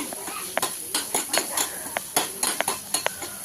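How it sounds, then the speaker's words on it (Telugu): Finely chopped onions, about a cup, fry in a pan for a mushroom curry while a utensil stirs them, giving a steady sizzle broken by repeated scraping clinks at an irregular rhythm, close and moderately loud. "సన్నగా తరిగిన 1 కప్పు ఉల్లిపాయ ముక్కలను వేసి దోరగా వేయించుకోవాలి"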